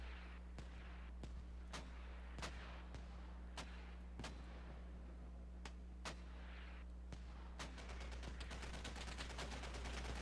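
Mortar rounds and gunfire crack out in the video game Squad, a string of sharp separate reports that thickens into a rapid burst near the end, over a steady low droning hum.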